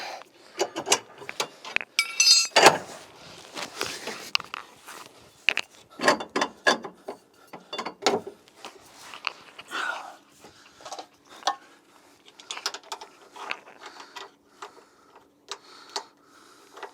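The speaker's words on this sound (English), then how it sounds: "Take this key again, loosen all the bolts, same here." Bolts on a mobile dental unit are loosened with a wrench key in a series of metallic ratcheting clicks and clinks, irregular bursts with short pauses, fairly close.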